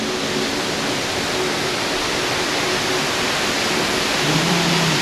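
Loud, steady roar of rushing river water, a dense broadband wash that fills the whole clip without pause.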